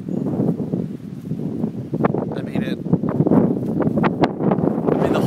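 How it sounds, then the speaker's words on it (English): Strong gusting wind as a lightning storm approaches, roaring and buffeting the microphone in uneven surges throughout, with someone talking over it. "This wind's starting to gust probably about, I don't know, probably about 50 or 60 now."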